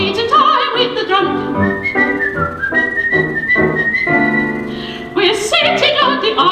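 Melodic whistling, clear and loud, running through a tune with sustained and shifting notes, briefly dipping before picking up again.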